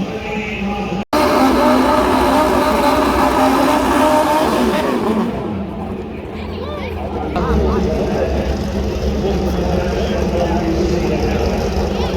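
Pro Stock drag racing cars roar at Bristol, a loud sustained engine blast that eases briefly midway and then builds again, with voices mixed into the din.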